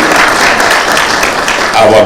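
An audience at a Kenyan political rally applauds, a loud dense wash of clapping and crowd noise filling the whole moment.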